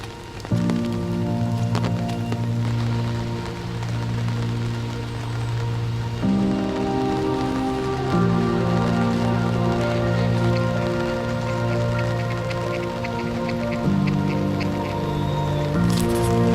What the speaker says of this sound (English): One thing good about the rain is once it stops